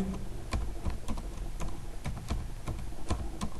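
Steady typing on a computer keyboard as a keyword is entered, a brisk run of close, clicky keystrokes in an irregular rhythm with no talk over it.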